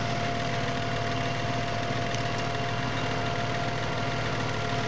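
A FIAT 540 tractor engine from Farming Simulator 17 runs continuously with a steady, throbbing low drone and a pulsing rhythm, holding level throughout without any talking.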